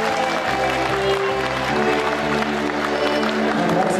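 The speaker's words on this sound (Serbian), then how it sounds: "Jedan aplauz ću zamoliti isto tako i za Kud Biser" Audience applauding the folk ensemble KUD Biser at a Bosnian diaspora show in Finland, a sustained, even clatter of many hands with a steady tonal hum beneath.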